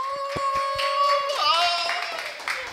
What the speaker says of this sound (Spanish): Fuerte el aplauso para Gisela